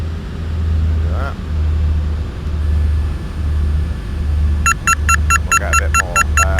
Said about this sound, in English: The warning you can hear there is because I'm closing the throttle and I haven't got the gear down.